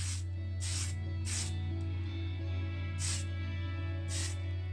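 Five short hissing bursts of spray primer hit a 1986 Matchbox Skoda 130 LR model, spaced irregularly over a steady low mechanical hum.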